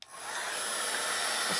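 A steady, whooshing blower hum starts abruptly and holds at an even level, a heat gun drying watercolor paint up close with no talking.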